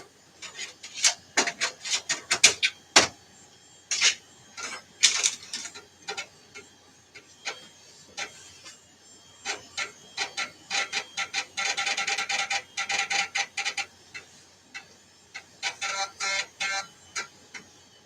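A 486 PC's floppy drive reads a DOS disk with a series of close, dry mechanical ticks and rasping head seeks, bursts of rapid clicks broken by short pauses.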